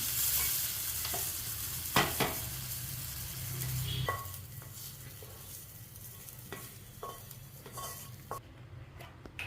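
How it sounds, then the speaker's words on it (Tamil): Peanuts fry and sizzle in a little oil in a pan, giving a steady close crackle. A spoon scrapes and stirs through them now and then, and occasional clinks sound against the pan. "வேர்க்கடலையை கொஞ்சமாக எண்ணெய் ஊற்றி வறுத்து எடுத்துக்கணும்"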